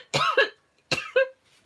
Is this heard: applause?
no